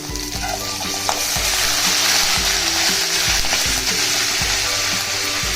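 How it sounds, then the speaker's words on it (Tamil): Chana dal, urad dal and curry leaves fry loudly in hot oil in a pan, with a constant dense sizzle and repeated stirring scrapes close by, and no talking. "கடலைப்பருப்பு, அப்புறம் உளுந்தம்பருப்பு, இதெல்லாம் நல்லா வறுத்துக்கலாம்"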